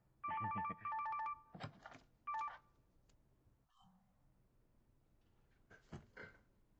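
A telephone gives bursts of bright dial tones followed by short ringing chimes, then a quieter pause and another brief trill near the end, fairly close and with no talking.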